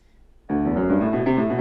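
A fast lick in thirty-second notes from the very end of a fugue, played as a quick dense run of pitched notes. It starts suddenly after a short quiet gap and keeps a steady loudness with no talking.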